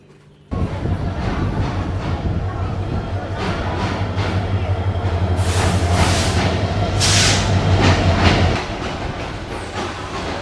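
Kurigram Express passenger train with power car pulling into a station, loud steady clatter of wheels and rumbling carriages, brief bursts of brake hiss and squeal, then the noise eases as the train slows.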